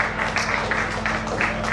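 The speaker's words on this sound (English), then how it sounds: "Please clap your hands together for MCQ once again." Applause from a comedy show audience in Lagos, a dense, steady wash of clapping and crowd noise filling the short moment.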